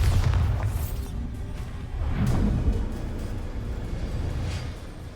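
In the game Hogwarts Legacy, the Bombarda blasting spell goes off as a deep, booming explosion, with a low rumbling burst near the start and another about two seconds in, trailing into a whooshing swell.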